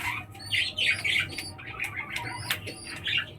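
Lotan pigeons giving a series of rough squawking calls, several birds close by in quick succession over a low background rumble.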